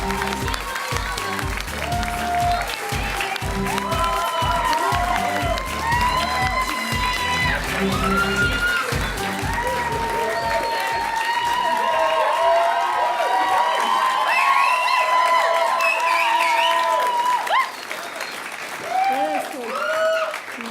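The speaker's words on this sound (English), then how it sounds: "May I have an enormous round of applause for Jade Head, please." Audience applause at a university volunteering awards ceremony, a long sustained round of clapping mixed with some cheering that runs loud and steady for about twenty seconds.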